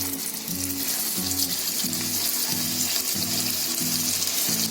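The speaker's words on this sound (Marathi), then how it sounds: "शॅलो फ्राय करायचे" White pea cutlets shallow frying in oil in a pan, a steady broadband sizzle close up throughout, with a faint low rhythmic hum pulsing beneath it and no talking.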